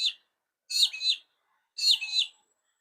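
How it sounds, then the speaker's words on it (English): A peewee, or magpie-lark, on a beach gives three clear, close chirping calls. Each of the last two is a quick two-part phrase, separated by silence. "That's his bird chirpy chirp"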